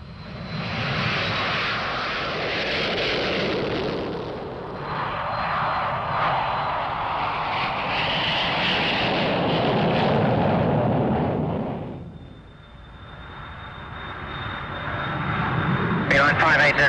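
BAC One Eleven jet engines roar during takeoff, a loud sustained broadband rush with a high whine that swells, dips briefly, then builds again; radio talk is heard over the noise.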